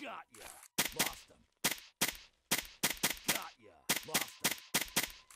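Pistol shots fired in a video game: about ten sharp, loud cracks in quick, uneven bursts, with a voice talking in the gaps between them.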